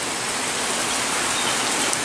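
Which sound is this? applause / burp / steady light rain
steady light rain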